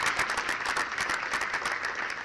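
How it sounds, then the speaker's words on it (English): Applause at the Iron Dog snowmobile racers' banquet, a moderately distant room of clapping hands that is steady throughout, with individual claps flickering through the wash. "Give both a round of applause for what they've done in the last 3 years."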